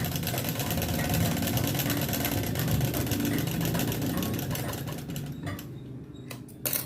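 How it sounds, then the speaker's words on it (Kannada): A sewing machine stitches two layers of blouse fabric in a straight line, running as a steady, close mechanical whir for several seconds before slowing and stopping near the end. "ಈ ಥರ ಎರಡೂ ಬಟ್ಟೆನ ಇಟ್ಬಿಟ್ಟು ನೀಟಾಗಿ ನಾವು ಸ್ಟಿಚ್ನ ಹಾಕೋತಾ ಬರಬೇಕು"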